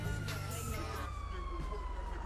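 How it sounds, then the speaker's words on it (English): Police sirens wail steadily through a video game roleplay scene, a rising and falling tone running under a dense, noisy backdrop of game sound. "Why they don't turn any sirens off?"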